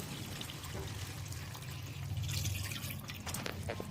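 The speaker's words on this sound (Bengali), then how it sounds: "তো দিয়ে দিচ্ছে তো জল" Water pours steadily into a cooking pot during a Bengali egg recipe, making a continuous splashing, trickling rush that fills the whole stretch, with a slightly louder surge midway and no talking.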